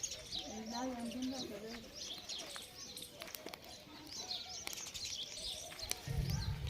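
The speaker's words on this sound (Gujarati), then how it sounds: "અરે આ હોલું ભાઈ" A dove calls on a farm, soft cooing and chirps heard faintly amid background birdsong and low surrounding noise.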